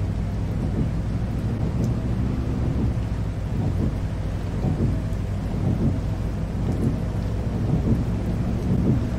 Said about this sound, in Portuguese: O somzinho da chuva é bom demais